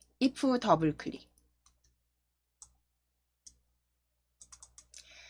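Sharp computer mouse clicks in an Excel spreadsheet follow a short spoken instruction: two isolated clicks, then a quick cluster of several clicks near the end, close and dry in a quiet room.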